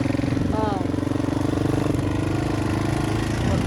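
A 400cc motorcycle fitted with a big front fork runs close by, giving a steady, throbbing engine note with a short rising whine near the start.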